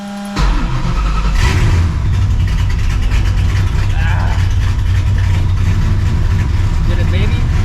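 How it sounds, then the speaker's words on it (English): A Ford Mustang GT engine cold-starts with a short crank and catches into a loud, rough idle, then revs and holds a deep steady rumble close by. "All right, let's get a little cold start."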